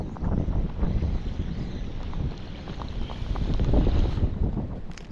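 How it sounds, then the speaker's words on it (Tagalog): Strong wind buffets the microphone at sea aboard a fishing boat, a loud continuous roar with gusty swells and water wash underneath, no talk. "Lakas sa hangin."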